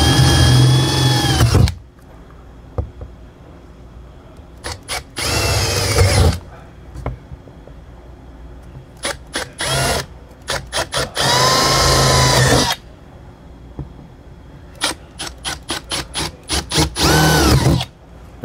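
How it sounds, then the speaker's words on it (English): Repeated bursts of a power drill drilling out panel corners on a 2018 Forest River travel trailer, some long and some short, whirring loudly with quiet gaps between them. "we're going to take our bit here and we're going to drill out each corner"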